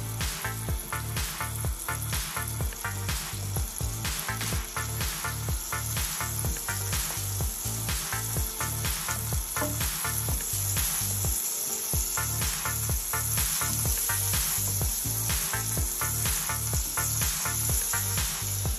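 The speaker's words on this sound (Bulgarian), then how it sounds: "Първо слагаме масло. Да се разтопи маслото." Butter melting and sizzling in a frying pan, a steady close crackle with rhythmic scraping pulses running throughout, no talking.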